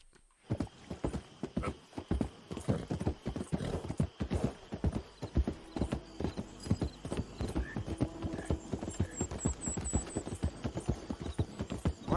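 Horse hooves gallop in Red Dead Redemption II, a rapid continuous clip-clop rhythm heard up close and fairly quiet, with a brief whinny and no speech.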